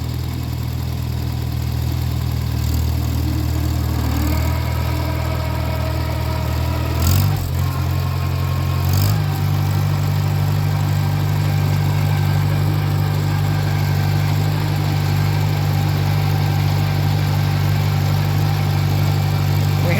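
A Farmall Cub tractor engine chugs steadily in second gear while driving along farm trails, a constant close mechanical drone with a brief clunk partway through.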